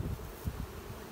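Honey bees buzz low and steady at an opened hive frame during a July honey-robbing check, a continuous soft hum with slight swells and no talking.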